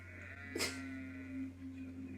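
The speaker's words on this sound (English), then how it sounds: "Why does he have sheep?" A single faint sheep bleat, short and wavering, rises over a steady low hum, fairly distant and quiet.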